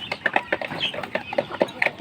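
Several chickens cluck busily and close by after being fed on a hot, sunny morning, with a dense, overlapping run of short calls that continues throughout.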